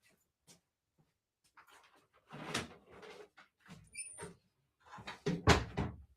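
A door is shut indoors in a quiet room: scattered soft knocks and creaks, a brief squeak, then a few louder thumps and rattles toward the end, all faint and without talk.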